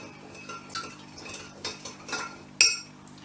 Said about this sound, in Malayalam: നമ്മളിപ്പോൾ ഒരു ആറ് സ്പൂൺ ഷുഗർ ഇട്ടു ശേഷം നമുക്കൊന്ന് ഇളക്കി കൊടുക്കാം